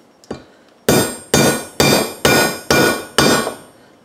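A hammer strikes powder-coated metal with a purple top coat in a durability smash test: one light tap, then six loud, evenly spaced metallic blows, each ringing briefly.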